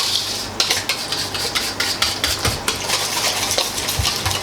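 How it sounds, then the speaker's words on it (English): Pumpkin pie filling, enough for two large pies, whisked in a bowl, a steady run of quick metallic clinks and scrapes close up, with no talking. "So I'm going to whisk that in a little bit."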